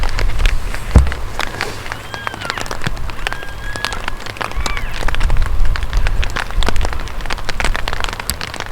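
Rain falls steadily through timber during a wilderness rainstorm, a dense continuous patter of drops with sharper close hits throughout and a low rumble underneath, with no talking.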